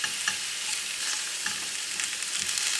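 Mushrooms fry in bacon fat with a steady, bright sizzle, and soft stirring scrapes come through at intervals. The sound is close and moderately loud.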